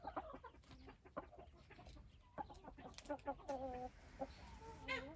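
Backyard Indian chickens and roosters cluck in short, irregular bursts, several birds calling over one another at close range, with a few longer drawn-out notes near the end.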